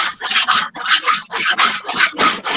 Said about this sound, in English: You're sanding something on a live show.